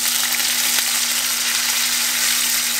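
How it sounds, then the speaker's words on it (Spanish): Green sofrito and garlic fry in a pan for corned beef, giving a steady, close, bright sizzle with a faint constant hum beneath and no talking. "Yo lo primero que hago es echo sofrito de ambos sofritos."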